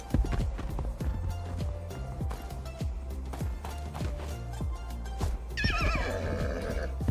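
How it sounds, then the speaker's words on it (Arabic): Horse neighing with clip-clopping hooves in the survival video game Project Evo, a high whinny rising near the end over steady rhythmic hoof thuds and a busy game soundscape. "بعد ركض لمليون سنة اخيرا لقيت هذا الحصان"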